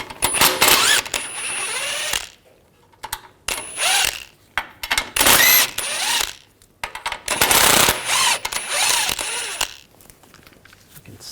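Ratchet with a 15mm socket removing nuts on a Volkswagen Tiguan front strut, loud rapid ratcheting bursts close up, repeated several times with short pauses and clunks between.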